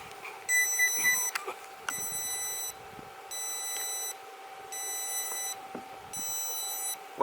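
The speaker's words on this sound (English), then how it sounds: "It was the stupid adapter beeping." A power adapter emits repeated high-pitched beeps in regular bursts, fairly quiet, over a steady faint hum with no voices.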